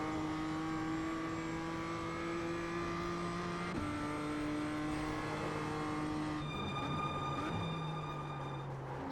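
Several race cars lap the Nordschleife in the iRacing sim, engines holding steady high drones that shift pitch sharply as gears change, with more engine layers and a brief tire squeal joining later, loud and continuous throughout.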